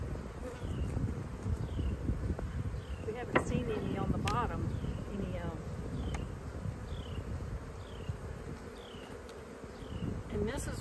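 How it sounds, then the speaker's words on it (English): Honeybees at a beehive buzz in a dense, continuous hum close to the microphone, with individual bees whining past. People talk quietly underneath. "These are worker bees."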